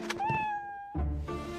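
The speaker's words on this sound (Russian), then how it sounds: "Ваш кот говорит мяу." A pet cat meows close up, a rising drawn-out tonal cry followed by a second shorter meow, clear and loud with no other voices.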